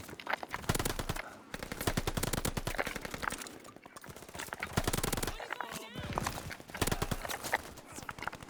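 Rapid bursts of automatic gunfire from the video game Call of Duty rattle in repeated volleys with brief pauses between them, loud and dense, with a voice speaking underneath.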